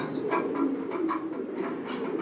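A foreign hen racing pigeon coos in soft, repeated low murmurs, close by and steady over a faint background hum, with no talk.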